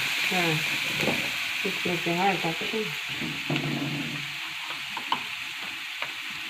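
Agave leaves (ghaypat) stir-fried in a pan make a steady sizzle with scraping stirs throughout, while a voice talks over it in the first half.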